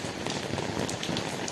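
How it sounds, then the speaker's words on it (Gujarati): Steady rain pattering on a surface at home, a dense continuous patter with scattered droplet hits, fairly close and alone without talk. "વરસાદ"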